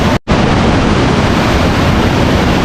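Waterfall in Pauri Garhwal, Uttarakhand, roaring as a loud, steady, close-up rush of falling water with a wind-like texture, briefly cutting out just after the start and then continuing unbroken.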